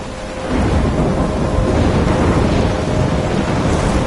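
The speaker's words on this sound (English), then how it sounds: "I'm trapped in a storm?" Steady thunderstorm in the game Life is Strange: heavy rain and rumbling thunder roar as a continuous loud wash, swelling after a brief quieter start, with no voices.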